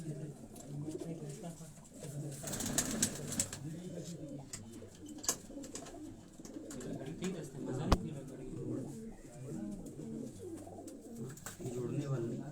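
Breeder pigeons kept in a loft coo softly and repeatedly, mixed with wing flutters and other bird calls, while people talk nearby throughout.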